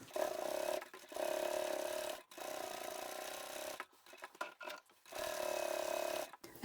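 A sewing machine stitches a handbag seam in bursts of steady, close whirring, each run stopping and starting with short pauses and faint handling noises between them.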